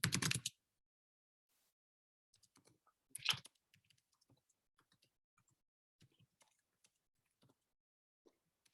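Sparse, quiet keystrokes on a computer keyboard, irregular single clicks and short bursts in a silent room after one louder knock at the start.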